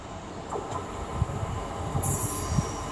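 A Great Western Railway passenger train, a class 158 unit, rolling into Cheltenham Spa station with a low steady rumble, rhythmic wheel thumps and a high brake squeal near the end.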